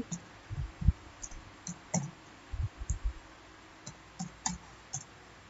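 Keys on a computer keyboard click in short irregular bursts as a command is typed into a Windows XP command prompt, close and fairly quiet, with no voices.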